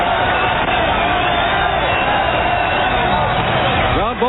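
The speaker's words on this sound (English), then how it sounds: "and they're standing cheering Schmidt" A baseball stadium crowd stands and cheers for the pitcher in an opposing ballpark during a World Series game, heard over a radio broadcast as a steady, dense roar of voices and whoops, band-limited and continuous throughout.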